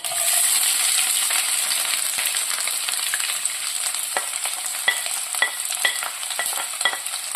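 Sliced ginger, garlic and green chilies sautéing in oil for Kerala-style beef pickle: a steady, close sizzle with a spoon repeatedly scraping and clicking against the pan.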